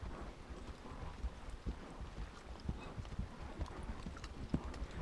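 Horse hooves clip-clop in a steady walking rhythm on a ride near Jemez, fairly close but soft, with light wind noise across the microphone.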